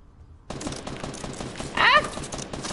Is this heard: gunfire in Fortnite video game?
yes